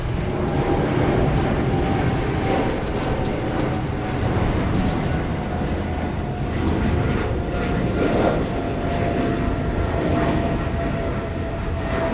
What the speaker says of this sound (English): I saw a very purplish plane there.